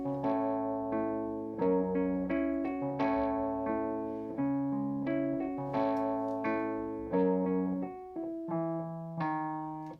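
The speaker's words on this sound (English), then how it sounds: "So here's the sound of the Wurlitzer with just the amplifier," Wurlitzer electric piano chords and melody through a Tubemeister Deluxe TM20H amplifier, slightly gritty, with notes struck in a steady rhythm and decaying between phrases; no voices.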